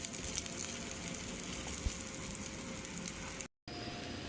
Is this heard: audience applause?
no